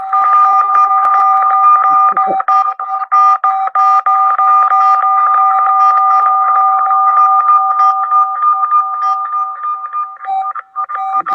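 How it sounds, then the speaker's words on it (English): Telephone dialing tones beep loudly and continuously in quick, uneven bursts as phone numbers are punched in, with voices speaking underneath. "Call it in, punching phone numbers."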